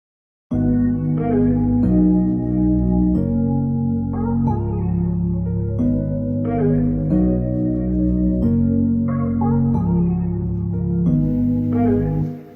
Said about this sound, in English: So I have this synth bass.